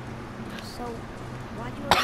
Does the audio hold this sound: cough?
yes